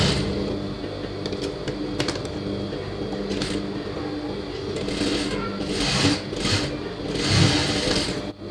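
A sewing machine runs close and fairly loud while stitching a blouse sleeve with long stitches, a steady mechanical whir with small knocks and shifts, and someone talks over it.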